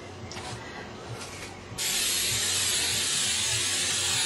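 A quieter stretch of background noise gives way partway through to a steady aerosol hiss of cooking spray, continuing loudly to the end, while making lasagna.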